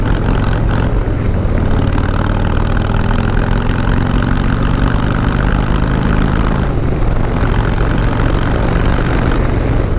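A Harley-Davidson motorcycle with dual exhaust decelerating and rev matching, its engine a continuous loud low rumble heard close up with shifting tones throughout.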